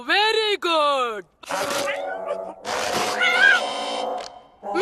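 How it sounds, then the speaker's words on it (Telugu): Cartoon cat meows in an animated children's series, a drawn-out wavering cry near the start followed by busier sound with voices speaking over it. "నా మిస్టర్ క్యాట్ ని మీకు పరిచయం చేయమంటారా?"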